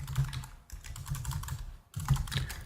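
Fast, steady typing on a computer keyboard, a dense run of close clicks and clacks with two brief pauses, heard alone without voices.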